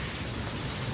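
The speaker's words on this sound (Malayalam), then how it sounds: "നമ്മുടെ ഇവിടെ ലാസ്റ്റ് ആലിപ്പഴം വീണു" Hailstones falling in Bangalore make a dense, steady patter that fills the whole second, even and continuous with no voices.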